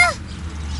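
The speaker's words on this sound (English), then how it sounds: "Oh, birds." Birds call outdoors in a brief, loud falling cry at the start, goose- or duck-like, then fade into steady low background noise.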